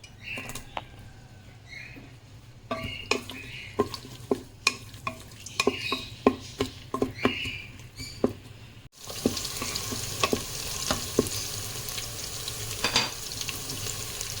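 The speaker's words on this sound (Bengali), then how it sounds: "এবার পেঁয়াজ দিয়ে দেব, পেঁয়াজটা একটু লাল করব, ব্রাউন কালার।" Onions browning in about four spoonfuls of hot oil, a steady sizzle broken by sharp clinks and scrapes of stirring in the pan, the frying growing louder and denser in the second half.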